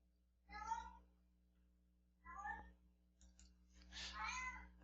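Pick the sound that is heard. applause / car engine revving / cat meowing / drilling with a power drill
cat meowing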